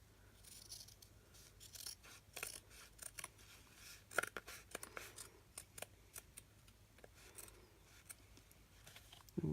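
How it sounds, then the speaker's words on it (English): Quiet, close snips of scissors cutting fabric, irregular crunchy clips and rustles repeating over several seconds. "It's just going to be a little more difficult to cut the fabric."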